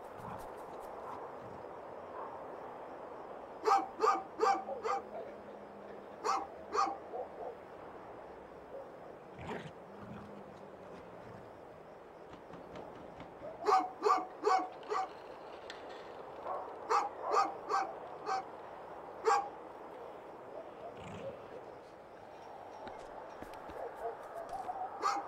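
Dog barking in the video game A Juggler's Tale: bursts of sharp, rapid barks come in clusters with gaps between them, set against a low game ambience.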